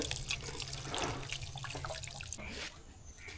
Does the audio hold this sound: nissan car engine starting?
no